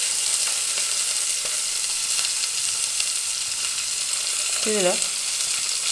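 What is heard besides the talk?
tempering seeds, onion, curry leaves and green chillies frying in oil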